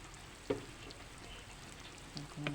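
Food frying and sizzling in a pan, a soft continuous hiss with a couple of faint pops and clinks, quiet and close, with no talking.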